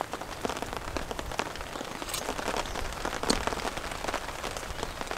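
Steady rain patters on the surface of a pond near a tent campsite during a rainstorm, a dense hiss of drops with scattered louder splashes and no voices.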